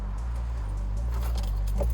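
Keys jangling as they are handed over during a police stop on a housing estate, a brief close metallic rattle with no talk over it.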